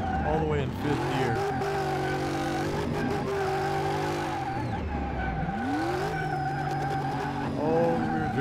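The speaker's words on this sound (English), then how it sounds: "we spin them tires all the way in fifth gear" An 1100HP drift kart in Car Mechanic Simulator 2018 sends out a loud continuous engine whine that rises and falls, with tire squeal and skidding mixed in, and someone speaks over it at times.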